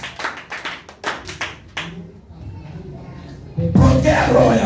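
A church congregation claps hands in praise to Jesus, a burst of loud rhythmic claps that fades into murmuring, then a louder swell of applause and voices at the end.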